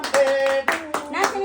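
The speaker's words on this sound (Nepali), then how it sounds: "ताली" Hands clapping at a child's birthday celebration at home, two or three bursts of claps close by, mixed with a child's high-pitched vocalizing.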